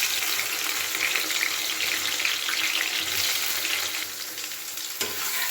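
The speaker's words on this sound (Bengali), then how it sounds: "এবার আমি বেগুনগুলোকে তেলের মধ্যে দিয়ে খুব ভালো করে ভেজে নেব।" Eggplant pieces frying in very hot mustard oil: a loud, dense, unbroken sizzle and crackle up close, easing slightly toward the end, with no talking.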